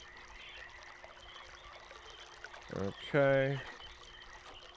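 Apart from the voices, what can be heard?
water flowing through a tube in the video game Myst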